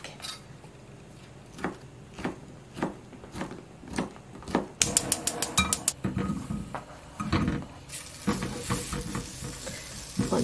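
Small cubes of ham stir-fry in a pan until browned, with a gentle sizzle broken by repeated scraping and clinking of a utensil against the pan, fairly close and with no talk.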